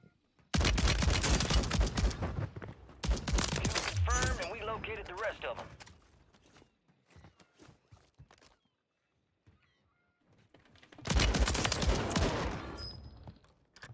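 Haymaker shotgun firing in Warzone 3, loud rapid bursts of close gunfire in two clusters separated by quieter stretches, with voices speaking in between.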